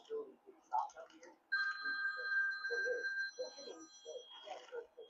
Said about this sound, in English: Bro got that phone going.